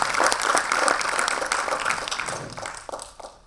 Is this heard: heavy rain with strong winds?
no